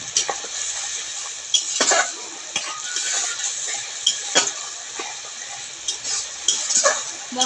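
A spoon scrapes and clinks against a pan as spice paste with salt and turmeric is stir-fried, irregular metallic taps over a soft steady sizzle.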